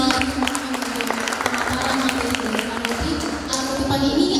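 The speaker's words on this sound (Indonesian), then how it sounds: "tepuk tangan sekali." Applause from an audience at a commemorative event marking 100 years of A.A. Navis, a steady wash of clapping throughout with some voices mixed in.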